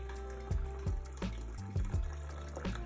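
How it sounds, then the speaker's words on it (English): Water flows into a toilet tank after the supply tap is reopened, a close, continuous gurgling fill with irregular splashy bubbling pulses, and no talk. "As you can see, the water is flowing vigorously."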